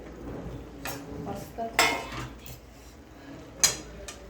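Utensil scraping and clinking in a pan as fried paneer is stirred into cashew curry gravy, with a few sharp metallic knocks amid softer scrapes, close and moderately loud.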